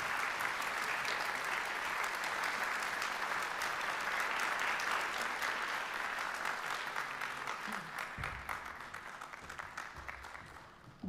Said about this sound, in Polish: Bardzo doceniam Państwa brawa,